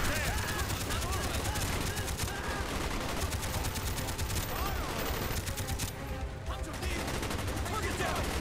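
Mounted machine gun on a nest firing in Call of Duty: Black Ops, long sustained bursts of rapid gunfire with distant explosions and battle noise, players talking over the shooting.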